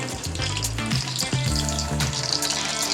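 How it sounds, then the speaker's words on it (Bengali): Chicken wings frying in hot oil make a dense, continuous bubbling sizzle heard close up, with a few low knocks and a brief tonal clatter early on, no voices. "এটা হতে থাক ভাজা দেখো বন্ধুরা"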